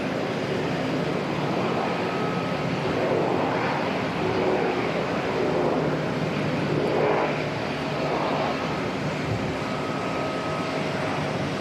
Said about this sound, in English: Beautiful A350-900 making its way out.